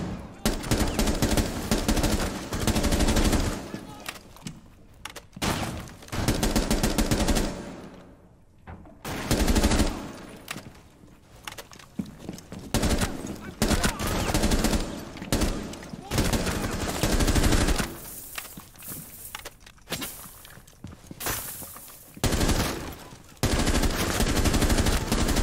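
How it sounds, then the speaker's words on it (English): Gunfire in the video game Rainbow Six Siege, with loud, dense bursts of automatic shots and rapid tap-fired rounds that come in clusters broken by short pauses, close up, with some talk mixed in. "You can tap fire like I'm doing on a couple of these guys."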